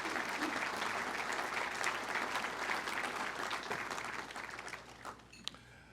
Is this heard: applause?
yes